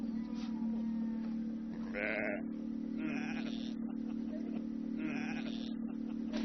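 Sheep bleat in a few separate calls across a vast green Xinjiang landscape, the cries standing out over a constant low hum and faint background sound.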